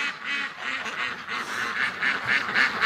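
Several ducks quack in a yard in winter, a busy, overlapping run of nasal calls close by that grows a little louder toward the end, with no talk.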